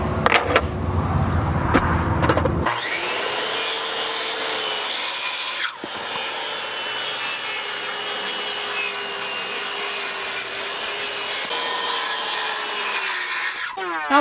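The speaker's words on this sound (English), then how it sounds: "Then I'll use my circular saw to cut on that line" A circular saw rips a straight edge along elm boards in a woodshop, a steady whining cut lasting several seconds with a brief dip midway, loud and close, heard alone without talking.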